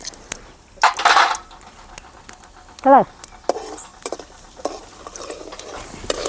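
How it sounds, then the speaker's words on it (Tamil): Mustard seeds with chana and urad dal spluttering in hot oil crackle in scattered sharp pops and stirring scrapes, with a short burst of louder crackling early on and a brief tonal, voice-like sound near the middle. "எண்ணெய் நல்லா காஞ்சிக்கிடுச்சு ஒரு பூணு கடுகு கடுகு நல்லா பொரியிட்டு"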